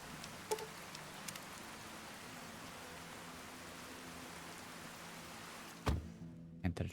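Steady rain in the Fallout Tale of Two Wastelands game, a soft, even hiss of falling drops, quiet and constant. A few sharp thuds near the end interrupt it before the rain noise cuts off.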